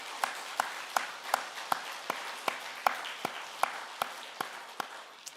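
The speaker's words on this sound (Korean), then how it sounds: "우리 하나님께 영광의 박수 한번 드리겠습니다" A church congregation applauds in rhythm, regular unison claps about three per second over a light wash of scattered clapping, moderately distant in a reverberant hall.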